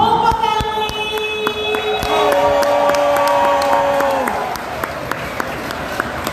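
Audience at a Polish American Labor Day festival applauding a polka band, steady crowd clapping with some cheering while someone speaks over it and band instruments sustain chords.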